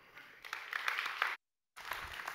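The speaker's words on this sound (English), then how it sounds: "give him a big round of applause, ladies and gentlemen" Audience applause for a speaker at a long COVID and virtual reality session, a dense patter of many hands clapping, with a brief cut to silence midway before the clapping resumes.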